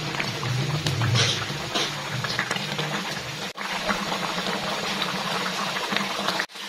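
Semur jengkol sauce simmering and reducing in a pan, a steady bubbling hiss with a low rumble running throughout, interrupted by two brief dips.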